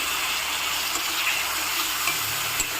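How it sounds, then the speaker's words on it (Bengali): Spice paste loosened with water sizzles steadily in a frying pan as a bele fish curry is cooked, a constant hiss with faint stirring. "ভালো করে এটা আমি কষিয়ে নেব"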